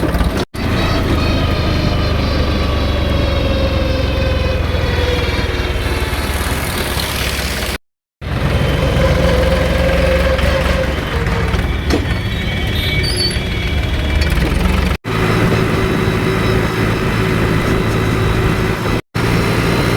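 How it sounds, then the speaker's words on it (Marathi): A tractor's diesel engine runs steadily while driving slowly in the lowest gear on a rough road, a loud, close, continuous rumble broken by a few brief cutouts, with no speech. "ट्रॅक्टर किती स्टेबल चाललाय बघा, जरा सुद्धा हलत नाही"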